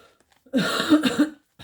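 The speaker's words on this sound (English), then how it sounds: "Excuse me for the cough" A single close, harsh cough fit from a woman getting over a cold, with a few rapid throaty bursts, between short stretches of silence.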